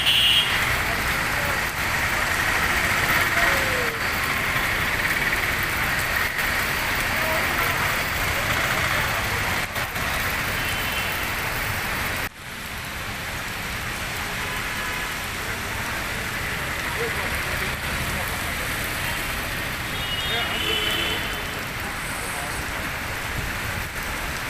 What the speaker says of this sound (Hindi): आज जमशेदपुर समेत ग्रामीण क्षेत्रों में कुछ घंटे के लिए जमकर बारिश हुई